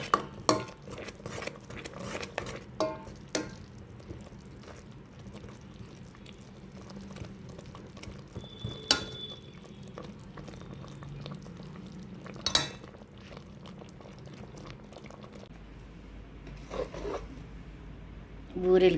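Coconut filling for Sankranti burelu, with ghee and cardamom powder, being stirred in a pan as flour goes in, giving soft scraping and spoon clinks against the pan at an uneven pace over a steady low background.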